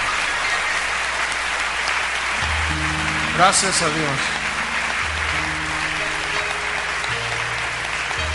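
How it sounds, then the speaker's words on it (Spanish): Church congregation applauding in praise, a sustained wash of clapping through the room while someone speaks briefly over it and soft organ or keyboard chords sound underneath. "Dale un aplauso de alabanza al Señor."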